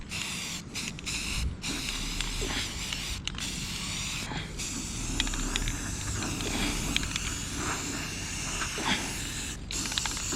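Self-etching primer sprayed from a can onto a Takeuchi TL240 compact track loader part: a continuous close hiss with brief pauses between passes, steady and fairly loud throughout.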